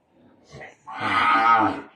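A cow with her calf offered for sale lets out one loud, close moo, drawn out and full, preceded by a couple of softer low grunts and shuffles.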